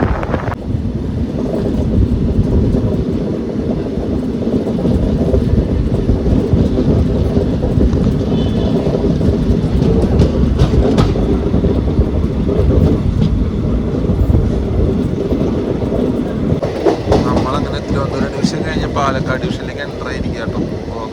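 Continuous low rumble and rattle of the Thrissur-Kannur Express rolling slowly along the tracks, heard from inside a general class coach, with wind buffeting the microphone and a few clanks, and no voices.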